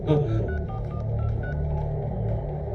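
A telephone number is dialed in a Hindi crime film scene, a quick run of clear keypad tones over a steady low background hum, with no speech.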